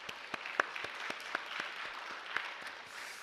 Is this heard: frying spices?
no